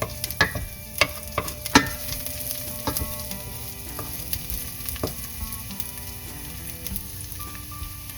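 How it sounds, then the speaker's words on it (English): Garlic frying in a pan until lightly browned, a steady close sizzle with a few sharp clinks of a utensil stirring early on, no voices. "Garlic. I want to get it to be a little brown."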